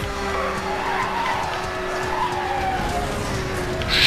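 A car drifts with tires skidding in the racing game Need for Speed Hot Pursuit, giving a steady engine drone and a sustained, grinding skid that rises and brightens near the end, with no voices over it.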